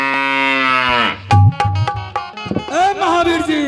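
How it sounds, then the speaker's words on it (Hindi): Cattle mooing in a forest setting: several long, loud, close moos with rich harmonic tone, followed by a second drawn-out call after a short gap, with no talk over them. "गाय के आवाज सुन लो"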